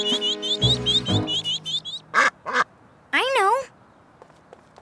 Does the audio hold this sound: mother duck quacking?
yes